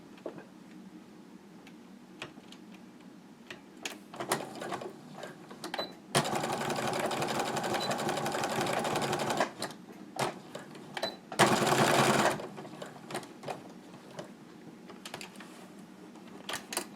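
A sewing machine stitches a scrub cap in short bursts, with two sustained runs of fast mechanical whirring between ticking handling clicks, close and clear.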